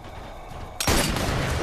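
A single sharp sniper rifle shot in the virtual reality game Sniper Elite VR cracks out abruptly after a quiet moment, loud and close, with a rumbling tail that rolls on to the end.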